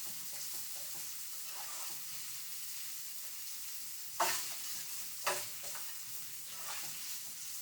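Onions and other ingredients cook down in a pan for escovitch snapper, a soft steady sizzle punctuated by two sharp clanks of a spoon or pan.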